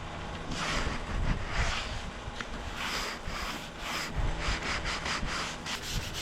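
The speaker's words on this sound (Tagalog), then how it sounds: "Pati itong groove na to, kailangan nating lihain para naman mawala yung talas ng mga edges nito." Sandpaper of 180 grit rubbing back and forth inside the groove of a handmade wooden cheese cutter, a close, steady scratchy rasp in repeated strokes with no talk.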